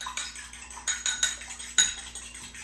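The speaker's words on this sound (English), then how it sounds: "get out a fork. I'm gonna kind of mix that up." A fork mixes sourdough pancake batter in a bowl, making a quick series of sharp metallic clinks and scrapes against the dish, close and clear, with short pauses between the strokes.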